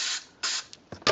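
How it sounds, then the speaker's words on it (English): Solvent cleaner sprays in short hissing bursts into the control potentiometers of a noisy, crackly amplifier. There are three or four close blasts, each lasting a fraction of a second, with brief gaps and a faint click. "then we want to get back up under and spray"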